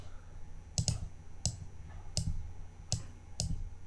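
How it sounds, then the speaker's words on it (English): Computer mouse buttons clicking while editing shapes in PowerPoint: five sharp, close double clicks spaced roughly evenly over a quiet background hum, with no talking. "Then right mouse click, edit points."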